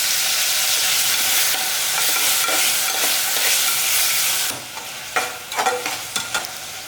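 Tomatoes, green chilli and turmeric sautéing in a pan for goat head curry, a steady close sizzle broken by several sharp stirring scrapes toward the end.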